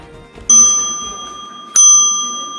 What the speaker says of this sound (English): When the bell rings in this classroom, it means it's time to pay attention